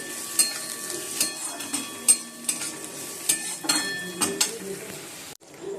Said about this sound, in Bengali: ডিম ভাজছি এখন